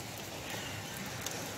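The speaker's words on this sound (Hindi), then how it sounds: "बारिश हो रही है, बहुत तेज़ बारिश है," Steady, dense rain hiss fills the clip evenly, a broad wash of falling water without pauses or voices.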